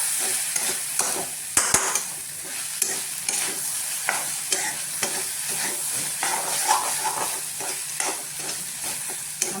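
Egg rice is stirred and mixed in a hot pan, a continuous close sizzle overlaid with brisk, uneven scraping strokes and a sharp clack early on, no voices.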